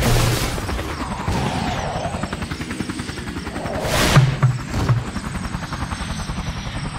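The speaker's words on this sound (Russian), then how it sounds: "Там еще один вертолет!" A cartoon helicopter in an animated children's show about tow trucks and city cars, its rotor chopping in a fast steady rhythm alongside whooshes and low booming impacts, with no voices over it.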